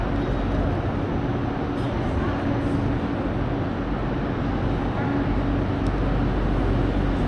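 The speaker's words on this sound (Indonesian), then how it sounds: "Ini suasana stasiun Aachen." Dense, steady rumble fills Aachen train station, a low mechanical drone of rail traffic with a constant wash of crowd and machinery noise and no pauses.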